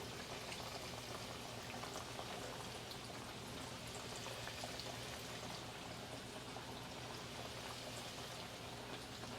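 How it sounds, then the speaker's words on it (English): Catfish nuggets fry in oil in a deep, wide skillet, a continuous dense crackle and sizzle that stays steady and fairly quiet throughout, with no talking. "I'm going to fry these nuggets until they're nice and golden."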